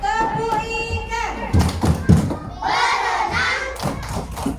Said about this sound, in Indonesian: Tepuk ikan.